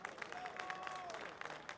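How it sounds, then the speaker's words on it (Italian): Audience applause at an outdoor Miss Adriatico pageant stop in Cepagatti, Abruzzo, a quiet continuous wash of clapping with a faint held tone running through it. "Io vorrei far sentire l'applauso di tutti i presenti per Valerio Basilavecchia!"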